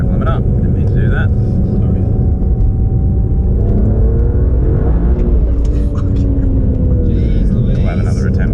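A BMW E92 335i with an N54 engine and a 17T hybrid turbo revs hard inside the car, a loud, close, continuous engine roar with rising pitch, while people talk over it.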